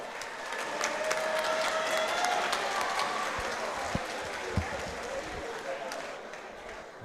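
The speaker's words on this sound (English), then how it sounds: "a round of applause, come on!" A crowd at a Muay Thai pro-am fight night in Bournemouth claps and cheers steadily in a big hall, a continuous wash of applause with a few scattered thumps.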